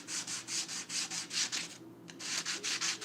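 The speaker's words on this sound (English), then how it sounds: "I did sand it down with a 320 pretty well" A wheel rim with curb rash is sanded by hand with 320-grit sandpaper, a close, soft, rhythmic scratching of quick back-and-forth strokes with a brief pause midway.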